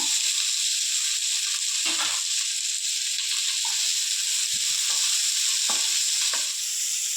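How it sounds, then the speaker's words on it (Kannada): Onion, green chillies, split urad dal and curry leaves sizzle steadily in hot tempering oil, a loud continuous frying hiss with occasional soft stirring clinks, no voices. "ಅದು ಟ್ರಾನ್ಸ್ಪರೆಂಟಾಗಿ ಫ್ರೈ ಆಗ್ತಾ ಇದೆ ಹಾಗೆ ಎಂಟು ಮೆಣಸಿನ್ಕಾಯಿ ಉದ್ದು ಸೀಳಿರೋದು ಫ್ರೈ ಆಗ್ತಾ ಇದೆ"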